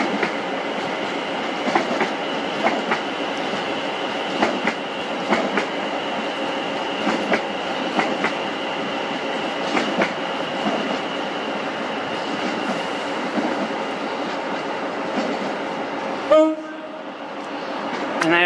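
Class 720 electric multiple units 720-611 and 720-606 passing through Crewe station on the West Coast Main Line, a loud continuous roar with rhythmic wheel clicks over rail joints, ending abruptly as it clears.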